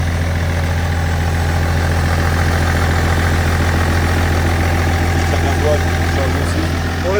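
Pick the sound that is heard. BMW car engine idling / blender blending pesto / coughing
BMW car engine idling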